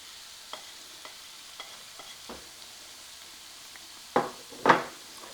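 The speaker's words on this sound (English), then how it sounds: "now I'm just going to work on getting this hamburger meat browned up" Half a pound of hamburger meat browning with garlic in a pan, a quiet sizzle punctuated by soft spatula taps and two louder scraping stirs near the end.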